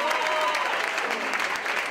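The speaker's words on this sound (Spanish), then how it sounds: "que han aplaudido emocionados ante la inesperada escena" An audience bursts into enthusiastic applause after a surprise opera flashmob staged by the Teatro Real, a dense, steady clapping heard at moderate distance with faint crowd voices mixed in.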